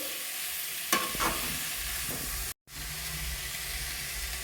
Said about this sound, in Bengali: ভালো করে মিশিয়ে নিই